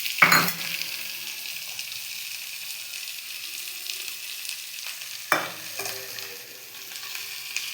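Garlic paste frying and being stirred in a pan while cooking fish curry, a soft steady sizzle punctuated by two sharp scraping stirs near the start and again around the middle.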